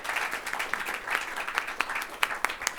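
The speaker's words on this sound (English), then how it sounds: "Could we please have a round of applause for the panelists" An audience applauds panelists at the close of a video games panel, a dense wash of many hands clapping at moderate distance that holds steady throughout.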